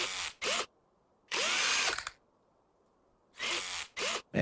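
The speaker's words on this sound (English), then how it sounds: "Man, I'm glad we got this drill." A power drill in the video game Car Dealer Simulator whirs in short, loud bursts as it drives screws into car parts such as a manifold, with quiet pauses between the three or four bursts and no talk.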